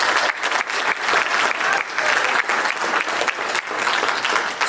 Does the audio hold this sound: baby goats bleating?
no